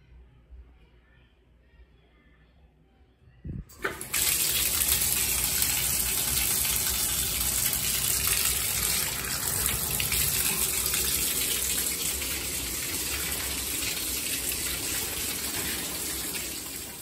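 A shower in a home bathroom switches on suddenly after a quiet stretch, then runs as a loud, steady spray of water that holds to the end with only a slight dip near the finish.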